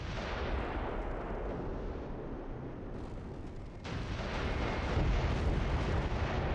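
Artillery fire in the Close Combat III war game: heavy, continuous rumbling blasts that overlap into a dense roar, with a fresh loud burst partway through.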